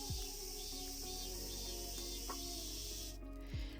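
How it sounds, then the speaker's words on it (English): Japanese cicadas from an ambience sound app form a steady, bright, continuous high-pitched drone at moderate level, with a few brief faint chirps underneath and a slight shift in texture near the end. "Japanese cicadas."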